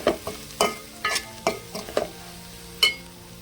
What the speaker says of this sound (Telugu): ఒకసారి కూర కలుపుతున్నా.